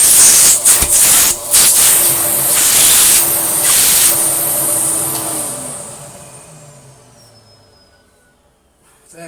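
An Electrolux 350 Electronic vacuum cleaner motor roars with a loud, breathy hiss and whine, then its pitch and volume slowly wind down until nearly silent.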